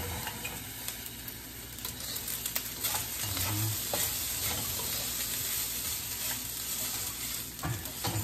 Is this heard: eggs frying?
yes